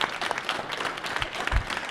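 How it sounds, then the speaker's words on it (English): Audience at an OpenSSF panel session applauding the panelists, a steady wash of clapping from a modest crowd with no one speaking over it. "Let's give them all a warm round of applause."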